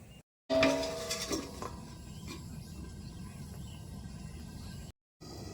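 A metal plate is set down over a pan of spicy mashed vegetable curry on a village stove, giving a short metallic clatter and scrape, followed by a steady low rumble of cooking.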